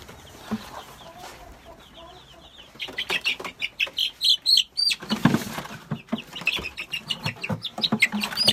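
Leghorn chickens cluck and squawk close by, with bursts of wing flapping and scuffling as birds are handled and moved, a busy, rhythmic run of loud calls.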